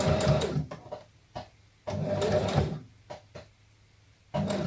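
A sewing machine with a stiff foot pedal runs in short, jerky bursts, loud whirring spurts separated by brief pauses.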